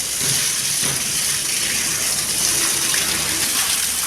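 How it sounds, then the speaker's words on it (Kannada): Water from a motor pump gushes strongly onto plants on a hot, sunny afternoon, a loud, unbroken rushing splash close by with no pause. "ಆ ಮೊಟ್ರ್ ಆನ್ ಮಾಡಿದ್ರೆ ಒಂದು ಸ್ವಲ್ಪ ಜೋರು ಬರ್ತೈತ್ರಿ ನೀರು"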